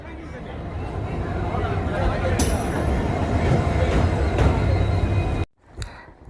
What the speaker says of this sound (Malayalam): നമ്മളിപ്പോൾ ഉള്ളത് ജോധ്പൂർ റെയിൽവേ സ്റ്റേഷനിലാണ്